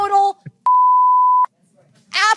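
A single steady censor bleep masks a swear word in a congressional speech clip, a pure loud tone lasting about a second, with a woman's speech just before and after it.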